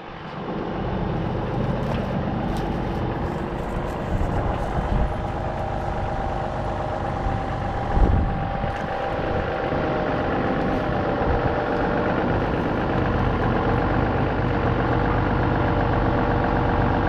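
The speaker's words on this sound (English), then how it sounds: "here's my ride for today. John Deere 6605." A John Deere 6605 tractor's diesel engine idles steadily and close by, a continuous low rumble with a brief louder bump partway through, while it is being fuelled before hooking up to a set of discs.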